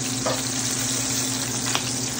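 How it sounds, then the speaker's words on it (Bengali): Fresh river fish fries in hot oil in a wok, giving a loud, dense sizzle up close with a couple of brief spatters and no talking. "এখন দিয়ে দিলাম কড়াইতে গরম তেলের মধ্যে। এখন দ্রুতই ভাজা হয়ে যাবে।"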